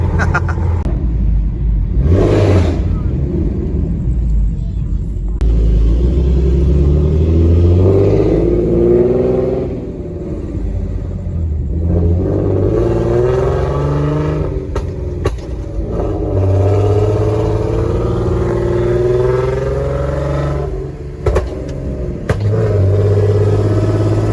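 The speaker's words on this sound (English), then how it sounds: "So we're hearing the car pop pretty good." A tuned car with a loud exhaust revs repeatedly, rising and falling, with sharp exhaust pops and crackles breaking in close by.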